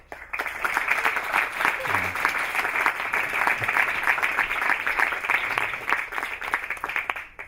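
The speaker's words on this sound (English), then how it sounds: "Let's give them a round of applause." An audience at the Tucson Poetry Festival applauds, with dense, steady clapping from a good-sized crowd. It rises quickly and holds for several seconds before fading near the end.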